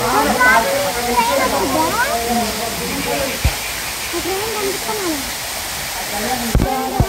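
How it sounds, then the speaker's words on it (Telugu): Waterfall in hilly forest country near Srisailam, a continuous broad rushing hiss of falling water heard close, with people talking over it almost throughout. "ఇది వాటర్ ఫాల్"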